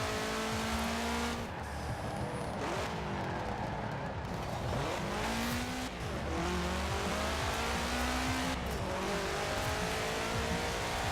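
Rally car in a racing video game, a car from Baby Driver, tearing uphill at high speed with a steady, loud engine drone, rising and falling revs through gear changes, and occasional tire noise.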